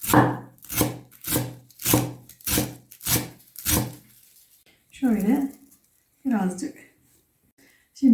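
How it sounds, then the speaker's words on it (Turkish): Knife chopping potato börek filling finely on a board, eight quick, evenly spaced thumps close by, then a few seconds of talking. "Böyle o kadar ince doğrayalım ki sevgili dostlar."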